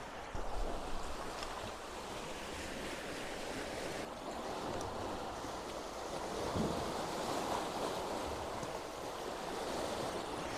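Ocean waves break on rocks in a steady, continuous wash of surf, mixed with heavy wind noise across the microphone, with no talking.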